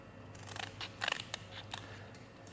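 Scissors snipping the edges off old discs while fabricating a custom column drop for a 1929 roadster hot rod, a few quiet close cuts and clicks over faint room noise.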